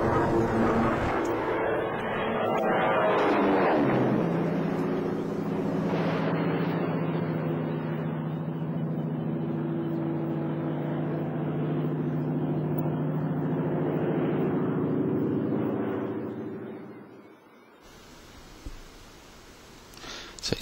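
An aircraft flying over in the World War II game Combat Mission: a steady droning engine tone that swells and holds for many seconds, then cuts off abruptly near the end.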